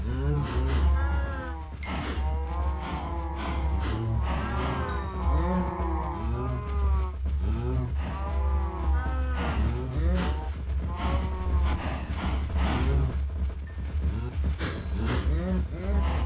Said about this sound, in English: starting to be a, a lot of cows here.